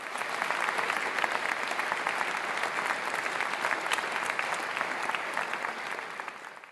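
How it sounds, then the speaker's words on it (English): Audience at an awards ceremony applauding a winning group, sustained even clapping throughout, moderately distant and without pauses. "a big round of applause for our Material Girls this evening"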